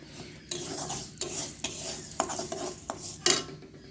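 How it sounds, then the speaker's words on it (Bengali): Mung and masoor lentils dry roasting in a pan, with repeated scraping stir strokes of a spatula and a light rustling crackle underneath, fairly quiet and close. "মসুর ডাল দুটোই ভেজে নিচ্ছি ভালো করে"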